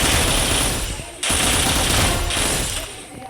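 Sustained bursts of automatic gunfire from a gun in a video game, loud and dense, briefly pausing before resuming.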